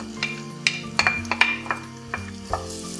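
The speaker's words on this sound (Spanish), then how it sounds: "voy a empezar por freír la cebolla" Chopped onion salted and frying in about four large spoonfuls of oil in a pan, a steady close sizzle broken by several sharp scraping stirs and clinks of a utensil against the pan.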